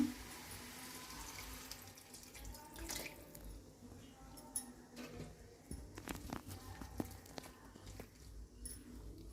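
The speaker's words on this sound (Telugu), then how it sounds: "కొద్దిగా ఒక చిన్న గ్లాసు నీళ్ళు పోసుకుందాము." A small glass of water is poured into a pan of ridge gourd and prawn curry, a brief splashing pour followed by faint drips and clinks, close and quiet with no talk.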